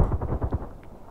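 Gunfire in the shooter game Contract Wars: a short, loud burst of several rapid low booming shots that fades out within about a second, with no talking over it.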